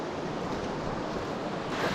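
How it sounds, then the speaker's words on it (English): A river flows loudly beside a lakeside campsite on Whiskey Lake in Algoma, making a steady, close rushing wash with no voices. "We like having the loud sounds of the river right on the side."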